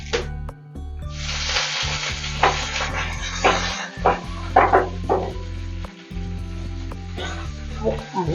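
Dried red chillies and curry leaves sizzling in hot oil in a Kerala-style kitchen, a loud close crackling hiss in bursts as the leaves hit the pan, over a steady low hum.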